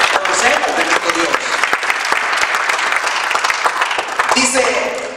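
Loud, sustained applause from a church congregation during a Spanish-language service, dense clapping that fills the whole stretch with voices mixed in.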